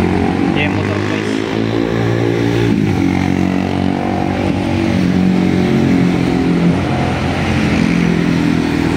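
Motor traffic on a city road near EDSA drones continuously, with a motorcycle engine rising and passing close among the vehicles while someone talks over it.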